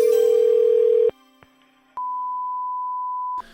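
Telephone line tones while calling a local coin shop: a steady tone that cuts off, a couple of faint clicks, then a long single ringback-style beep, clear and alone on the line.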